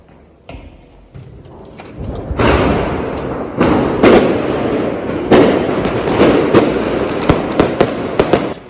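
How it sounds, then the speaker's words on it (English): New Year's Eve fireworks in Germany crackle and bang over a steady rumble, with sharp pops and booms coming in quick, irregular succession, some close and loud. "everyone can buy fireworks and just blow shit up"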